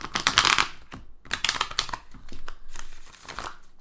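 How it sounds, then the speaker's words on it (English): A deck of tarot cards is shuffled close up in quick, papery bursts with short pauses between them, repeated again and again. "Almost done shuffling here. I like to shuffle a lot, as you can see"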